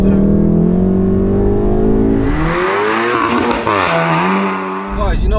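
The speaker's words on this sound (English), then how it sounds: "By the time I put my foot down, we are hitting the corner." A 600 bhp all-wheel-drive VW Golf R accelerates hard on a B road, its engine roaring loud and close as the revs climb, dip at a shift, then surge again.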